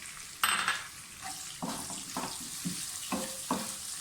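Onions drop into a hot pan for lobia masala and start frying, with a sudden burst of sizzle followed by a series of stirring scrapes and light utensil knocks against the pan, close and without talk.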